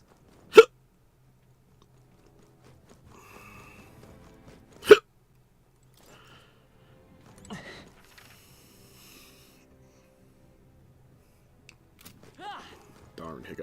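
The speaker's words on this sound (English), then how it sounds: "Darn hiccups." Two sharp, isolated hiccups several seconds apart in a quiet room, each a sudden loud jolt, with faint speech and murmurs between them.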